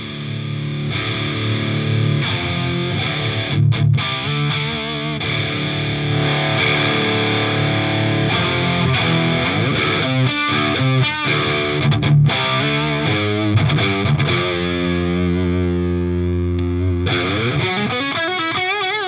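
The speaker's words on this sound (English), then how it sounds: "Let's hear what the overdrive from this thing does into a real loud guitar amp." Heavily overdriven electric guitar through an Enya Nova Go Sonic, played loud through a real amp, with crunchy distorted chords and riffs, alone without voices.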